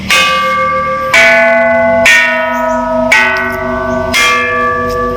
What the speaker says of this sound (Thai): อันนี้เป็นระฆัง